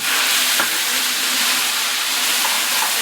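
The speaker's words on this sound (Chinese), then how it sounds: "我们现在开始炒起来啊！ 这个是1碗的剁辣椒" Chopped chili paste stir-fried in a wok for a beef soup and hotpot base, a loud continuous hiss and sizzle close up with faint stirring, no voices.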